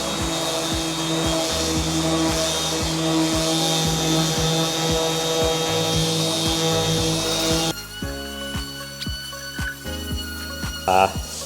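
A battery-powered sander with an attached vacuum runs steadily on a wooden door, a loud continuous whine with rhythmic low thumps, then drops to a quieter, intermittent buzz in the last few seconds.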